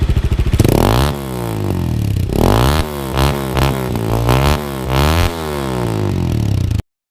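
A Gamma 200 motorcycle with a Villain exhaust revs up repeatedly, the engine rising and falling in several loud throttle blips over a raspy idle, close to the microphone before cutting off abruptly.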